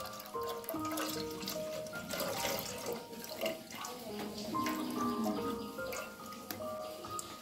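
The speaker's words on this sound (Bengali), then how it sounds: "আমি দুধটা ঢেলে নিলাম" Milk being poured in a village kitchen during Eid cooking: a steady liquid trickle and splash runs throughout at moderate closeness, mixed with faint background clatter and tonal noises.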